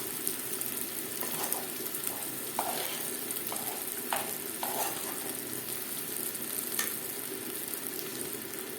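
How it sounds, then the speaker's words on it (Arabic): Meat sautés in a pan, giving a steady hiss and sizzle with a few soft clinks and scrapes from stirring, close by and unbroken, with no talk. "اديله تشويحه بسيطه ونشوحه مع بعض شويه صغيرين"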